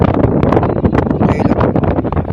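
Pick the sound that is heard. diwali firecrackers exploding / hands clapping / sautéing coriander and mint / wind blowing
wind blowing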